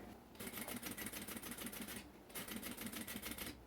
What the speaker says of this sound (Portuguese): E depois nós vamos costurar sobre o zíper.